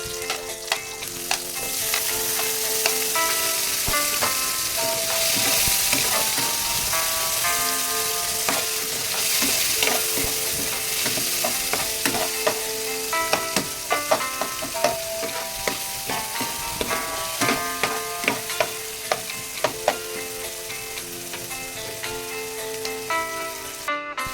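Onion and tomato fry in a pan for a Filipino mixed-vegetable coconut milk dish, making a steady loud sizzle with frequent stirring clatters and scrapes close by, continuous and without talk.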